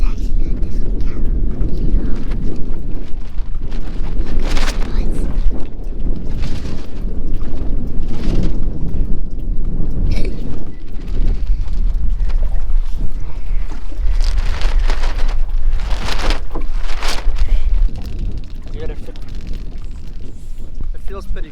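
A small 1985 Stacer 3.4m boat sits on open water. Heavy wind buffets the microphone over lapping water and hull knocks, and people talk intermittently throughout.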